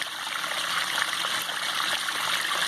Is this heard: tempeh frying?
no